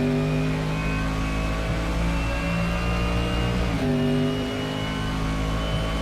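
A Mercedes-AMG GT3 race car's engine with a modded sound pack in Assetto Corsa at Rouen les Essarts, heard from inside as a loud, steady harmonic drone that dips briefly as it shifts, then pulls on.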